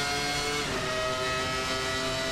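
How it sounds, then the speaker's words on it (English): Williams FW19 Formula One car engine in a racing sim video game, a sustained high-pitched revving whine heard from the cockpit, loud and steady with strong harmonic tones. "Lots of revs on the motor."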